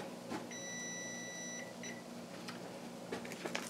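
An oven timer on a kitchen range beeps as a batch of rolls finishes baking: a single sustained electronic tone followed by a brief second beep, faint and alone over a low room hum.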